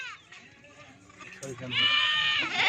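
Goats on a farm bleating, several loud, wavering cries with the longest near the end, close by and mixed with someone speaking over them.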